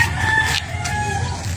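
A rooster crows nearby, a drawn-out, fairly loud call with a brief break midway, set against steady outdoor background noise.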